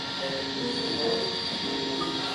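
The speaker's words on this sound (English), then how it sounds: "It is the blue train, folks. It did come around to this underground passage." A model train rumbles and hums steadily nearby through an underground passage in a model railway museum in Malahide, Ireland, with faint squealing wheels and rattling, no talking.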